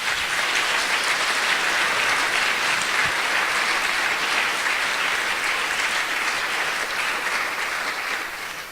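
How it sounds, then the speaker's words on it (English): An audience at a conference opening session gives a sustained round of applause, dense and even, lasting several seconds before tapering slightly at the end. "So would you give them a round of applause, please?"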